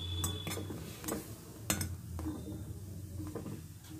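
A spoon stirs a thickening homemade hair-dye mixture in a pan over a gas flame, giving faint, intermittent metallic scrapes and clinks against a low background hum.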